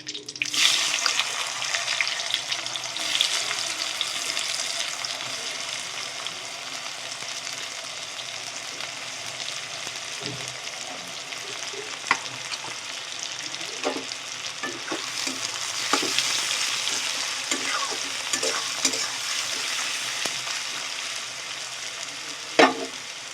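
Bay leaf, whole garam masala and chopped onions sizzle in hot oil for a crab curry, a constant frying hiss broken by scattered clicks and scrapes of stirring.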